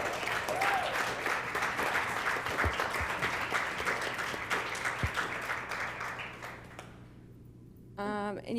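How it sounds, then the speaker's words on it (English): Applause from an audience at an annual academic symposium, dense and sustained clapping for about seven seconds before fading out, followed by a brief voice. "one more round of applause also for our Litman Fellows who worked all summer"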